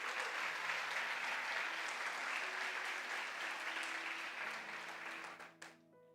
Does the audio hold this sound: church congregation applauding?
yes